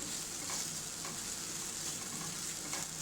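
Ginger garlic paste frying with onions in a pan, a continuous bright sizzle held at an even level throughout, close by and without any talking.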